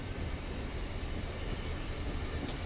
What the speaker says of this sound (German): Also die TTB 648er, die haben auch nochmal einen ganz anderen Sound.